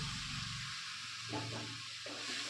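Boiled vegetables being stirred into spices in a pan for pav bhaji, a steady sizzle with intermittent scraping strokes of the spoon, close and fairly quiet, no talk.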